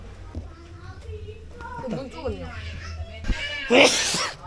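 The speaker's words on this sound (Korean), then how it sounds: "먼지가 하도 날려서 재채기가 계속 나" A single sharp sneeze from dust raised while laying floor vinyl in a Philippine slum bursts out near the end, louder than the faint background voices and movement before it.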